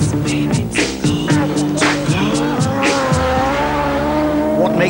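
A race car at a 24-hour ice racing event, its engine roaring loud and close with tyres squealing and skidding across the ice, sustained throughout amid harmonic engine whine.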